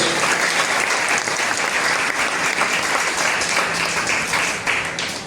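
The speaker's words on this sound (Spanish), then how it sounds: "Dale ese aplauso al Señor si tú lo crees" A church congregation applauds in praise to God, a dense, steady wash of many hands clapping that fills the room for several seconds before easing off slightly at the end.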